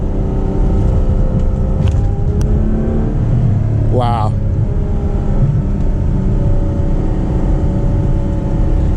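A Ferrari 812 Superfast with a seven-speed gearbox in manual mode drones loud and close from inside the cabin, with one quick rising rev sweep midway, while a voice briefly exclaims.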